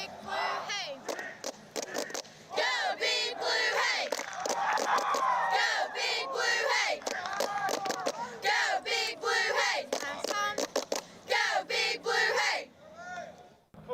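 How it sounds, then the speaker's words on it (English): A high school cheerleading squad at a football game shouts a cheer in unison, loud, rhythmic chanted bursts of many young voices with short pauses between phrases, ending abruptly. "So here's our Cheaha Cheer and Tumble Cheer Squad of the week."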